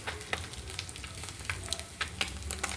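Curry paste with green chili and tomato just set on the stove gives a soft, steady sizzle with small scattered pops and occasional stirring clicks, close and without talk.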